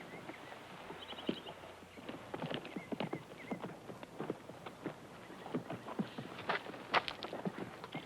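Horse hooves clip-clop at an unhurried walk, the hoofbeats irregular and moderately close, with a brief whinny partway through.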